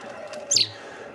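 A single short, high chirp from a small bird near the middle, brief and fairly faint over low background hum.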